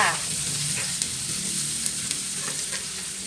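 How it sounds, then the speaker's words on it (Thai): Chopped garlic stir-fries in hot oil in a pan, a steady close sizzle with faint crackles and occasional light scraping as it is stirred, with no talking. "เราก็จะใส่กระเทียมที่เราสับไว้ลงไปผัดค่ะ"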